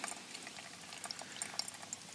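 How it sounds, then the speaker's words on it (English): Water poured slowly through a GSI Java Drip coffee maker at a camp setup makes a faint, steady trickle with small splashes and gurgles, close by and alone. "keep pouring this off until all our water's gone"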